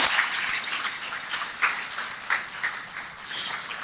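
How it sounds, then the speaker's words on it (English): A crowd at a Ghana–Czech business forum applauds steadily after a presidential speech, a dense wash of many hands clapping with brief swells and no talk over it. "Let's keep the round of applause going as he takes his seat"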